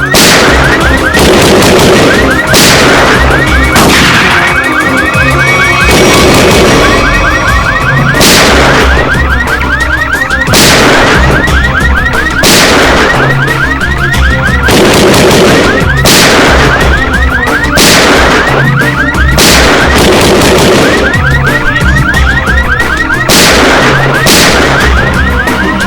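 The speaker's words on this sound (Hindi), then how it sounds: "ये तो कोई अलार्म लगता है, शॉकर अलार्म।" A loud alarm fires repeated sharp blasts like gunshots in a steady rhythm, over a constant harsh siren-like drone.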